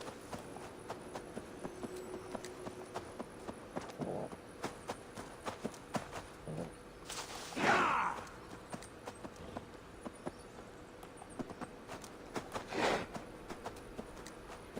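Steady clip-clop of a video game horse mount's hooves trotting along at a quick rhythm in Dawn of Ragnarok, fairly faint, with a couple of louder bursts of noise over it.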